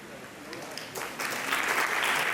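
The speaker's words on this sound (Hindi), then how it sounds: "एक बार जोरदार तालियां।" An audience at a community yatra gathering breaks into applause that swells after a moment into a dense, sustained clapping wash.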